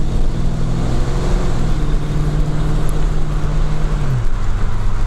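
A restored 1992 Calypso LX 5.0 hatchback with an automatic transmission on the road, heard from inside as a loud, steady engine drone with road noise, and the pitch drops near the end as it shifts.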